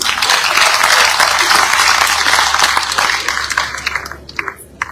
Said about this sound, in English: I think we should clap for the president.